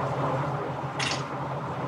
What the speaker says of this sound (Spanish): metemos agua caliente